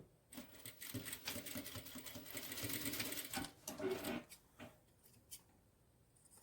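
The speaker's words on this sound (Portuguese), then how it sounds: "eu vou passar uma costura nessa marca que eu fiz." A sewing machine stitches a seam on a fabric bag in quick rapid bursts of mechanical clatter, close and fairly quiet, pausing briefly between runs.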